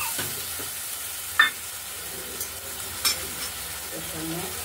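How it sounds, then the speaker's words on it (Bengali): Rice fried with ground spice paste in a pan gives a soft low sizzle, with a few sharp scraping clinks of a spoon stirring against the metal, quiet and close. "বাটা মশলাটা এর মধ্যে দিয়ে চালের মধ্যে হালকা করে ভাজা চালের মধ্যে দিয়ে দেওয়া হলো। কষিয়ে নেব।"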